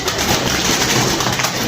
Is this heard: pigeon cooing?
yes